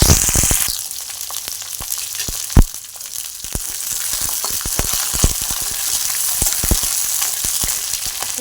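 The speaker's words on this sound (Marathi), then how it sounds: "मिरची आणि लसूण तेलात भाजून घ्यायचं आहे" Green chillies and garlic fry in hot oil, a loud crackling sizzle full of sharp spattering pops, with a burst as the ingredients hit the oil near the start, continuous and close with no speech.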